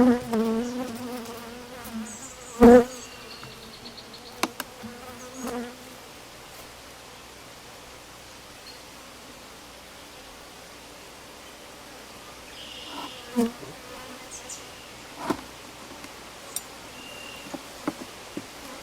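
Honey bees hum and buzz around a beehive, a steady drone of wingbeats with individual bees passing close now and then, plus a few light knocks and rustles.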